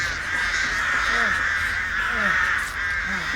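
Several crows caw in the horror video game Dead by Daylight, each call a short, harsh rasp repeated at intervals over a constant mid-pitched ambient drone, with a player speaking at times.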